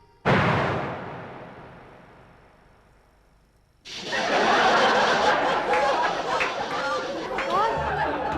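A bomb goes off under a table in a comedy show: one sudden loud blast that rumbles and fades over several seconds, then a burst of lively chatter and laughter.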